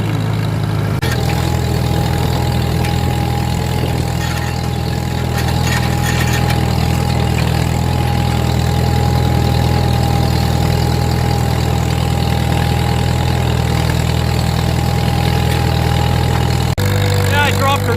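A 1940 Farmall M tractor engine runs steadily while plowing, a loud continuous low rumble with a held mid tone and a brief change near the end.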